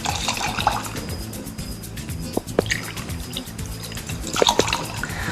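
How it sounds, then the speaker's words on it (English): Jose Cuervo tequila poured into a cocktail shaker while making a liliko'i margarita, a soft, close trickle with light drips and a few small clinks near the end. "then we're going to put 2 shots of Jose Cuervo tequila"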